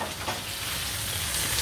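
A hot pan of cooked sole meunière deglazed with lemon juice gives off a steady, soft sizzle and hiss throughout, close but fairly quiet.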